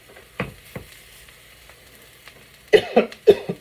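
Person coughing several times in a kitchen while black beans and vegetables fry in a pan, the sharp bursts loud and close, with a quiet sizzle underneath.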